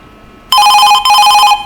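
Telephone rings in for a caller to a French-language radio call-in show, two loud electronic ring bursts back to back, close and clear, with no talk over them.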